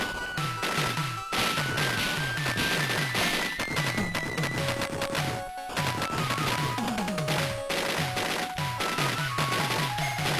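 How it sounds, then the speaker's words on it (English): Homing missiles fire in the TurboGrafx-16 shooter Blazing Lazers, a rapid stream of bright chiptune blasts and crashes layered over fast, continuous game music, dense and loud throughout with no talk. "I make damage off the homing missiles."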